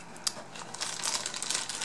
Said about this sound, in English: the light came in this plastic bag